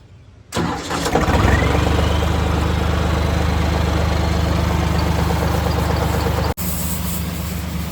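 A tractor engine starts up and settles into a steady, loud running drone as it drives a water pump for washing a rotavator, with the rumble continuing alone and only briefly cutting out near the end.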